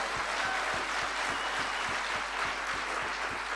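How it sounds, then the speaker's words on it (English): Audience applause for Holton Bucks at a weekend seminar, a steady dense wash of clapping that stays loud and even from start to finish with no voices over it. "Big round of applause for Mr."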